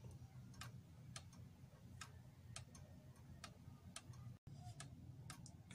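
A pendulum clock ticks out of beat, its faint, crisp ticks falling at uneven spacing about twice a second in a quiet room, with no speech.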